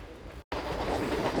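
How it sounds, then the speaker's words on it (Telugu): A slow MEMU passenger train rolls along the rails near Krishna Canal Junction, a steady close rumble of wheels with faint clatter, broken once by a brief dropout. "మన ట్రైన్ అయితే స్లోగా వెళ్తుంది"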